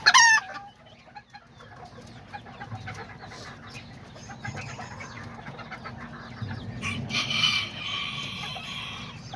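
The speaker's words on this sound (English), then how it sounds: "And then my little Azteca rooster right there." Hens and a small Azteca rooster cluck in a backyard coop, with soft repeated clucks and clicks under a quiet outdoor background, a brief louder squawk at the start and a busier burst of bird calls near the end.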